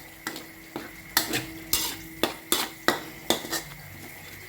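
Curry ingredients for a pork and sweet potato coconut curry stir-fried in a pan, with a loud sizzle under regular metallic scrapes and knocks of the spatula against the pan, about two per second.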